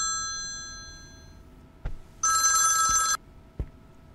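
A telephone rings in one loud burst of electronic trilling, preceded by a fading tone and a few soft knocks, with no talking.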